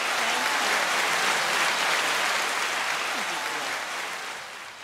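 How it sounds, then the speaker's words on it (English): A small group applauds Brandy on a podcast, dense steady clapping at close range that stays loud throughout before easing slightly at the end, with a few voices faintly underneath. "I want to give a round of applause to Brandy."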